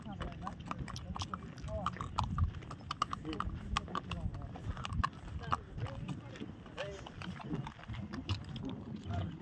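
A horse walks on open ground at Table Point plateau in Panchgani, its hooves giving irregular clip-clops amid wind and outdoor noise while people talk nearby.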